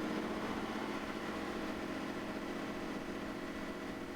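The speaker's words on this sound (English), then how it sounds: "Here we can see that the engine is running at the rated speed target." The diesel engine of an A62S power unit runs steadily at rated speed, a constant close-up mechanical hum and drone with no breaks.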